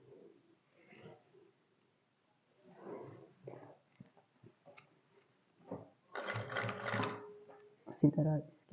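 A sewing machine stitches a trouser leg hem in one short, dense burst of whirring late on, after scattered quieter sounds and a voice talking.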